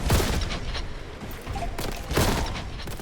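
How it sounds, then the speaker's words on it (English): A grenade goes off in Warhammer 40,000: Boltgun amid bursts of heavy gunfire, with loud booming blasts near the start and again about two seconds in, layered over ongoing shooting. "that grenade actually landed on point"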